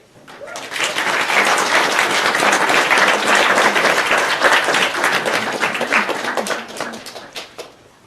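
Audience applause welcoming poet Juliana Gray to a reading: steady clapping from a room of listeners swells quickly, holds for several seconds, then thins out and fades.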